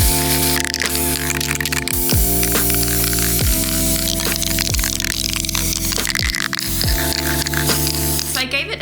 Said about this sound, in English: I'm going to spray them black and some silver and add some texture as well.